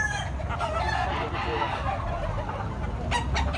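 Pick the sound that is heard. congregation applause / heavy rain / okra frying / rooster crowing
rooster crowing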